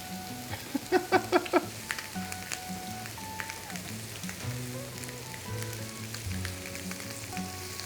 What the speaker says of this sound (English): I can hear the sizzle, can you?